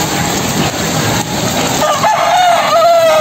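Gamefowl roosters crowing loudly and close by, a drawn-out cock-a-doodle-doo rising over a steady background of clucking and farmyard noise, with no talk.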